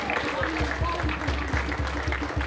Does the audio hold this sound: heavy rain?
no